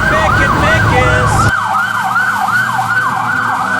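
Cartoon fire engine siren wailing as the truck leaves the depot, a loud repeating up-and-down howl with an engine rumble beneath it that drops away partway through.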